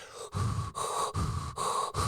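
Heavy, rhythmic breathing comes through a masked killer's mask in the 1974 horror film Madhouse. It is close and raspy, with four or five deep breaths in quick succession.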